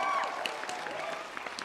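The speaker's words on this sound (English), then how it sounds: "Another round of applause for our amazing panelists today." An audience applauds panelists at a live master class: a soft, steady patter of clapping heard from a distance, with faint crowd voices underneath.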